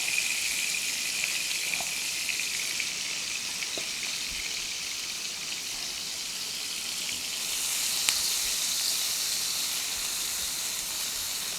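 Shredded onions, garlic and curry leaves fry in oil and a little butter, a steady close hiss and sizzle with faint occasional pops that swells slightly partway through.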